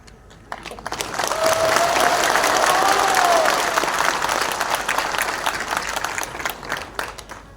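A crowd applauds at a public address, swelling from a quiet start into a loud, sustained burst of clapping and cheering that slowly thins toward the end, with a brief whistle-like tone rising above it.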